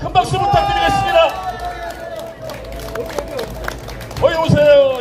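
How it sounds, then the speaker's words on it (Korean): Crowd clapping at an outdoor market campaign rally in Cheongju's Yukgeori Market, scattered claps and cheers mixing with loud amplified speech and crowd babble, rising again toward the end. "여러분 큰 박수 부탁드리겠습니다."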